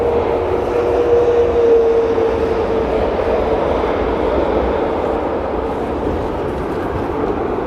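Delta Airlines Airbus A330-900 arriving at Heathrow runway 27R in wet, windy weather, a steady broad roar of jet engines with a brief whine early on, continuous and fairly loud throughout with no voices.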